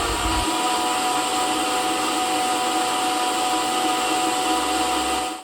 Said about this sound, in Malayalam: ഈ വാട്ടർമെലൻ അരിഞ്ഞിട്ടതിലേക്ക് ഒരു 3 സ്പൂൺ പഞ്ചസാരയും കൂടെ ചേർത്ത് വെള്ളം ചേർക്കാതെ അടിച്ചെടുക്കും